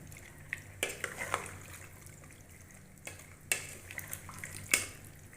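Chicken, potatoes and spices are mixed in a pot, quiet clinks and scrapes of a spoon against metal at irregular intervals over a faint low background hum.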